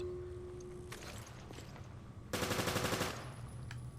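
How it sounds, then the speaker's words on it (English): A P90 submachine gun fires in Resident Evil: Revelations, first as a short burst and then as a longer, very fast stream of sharp shots, loud over a quiet background hum. "This, I think, has the fastest firing speed of the machine guns."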